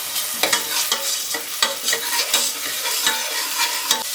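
Ginger garlic paste sizzles loudly with onions in a pan, stirred briskly with a spoon in a quick rhythm of scraping strokes over a constant bright frying hiss, with no voices.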